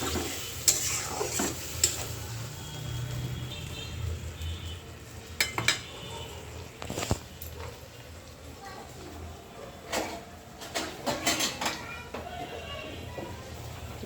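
Potatoes frying in a pan with turmeric, chilli and coriander spice mix added, a steady sizzle broken by repeated clinks and scrapes of a spoon against the pan, with a voice talking over it.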